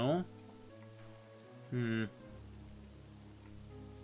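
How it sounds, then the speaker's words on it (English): Rain falling in an RPG Maker horror game, a faint steady patter beneath brief chiming music tones and a quiet murmur from a voice. "It's just a rainy day. Nice rainy day."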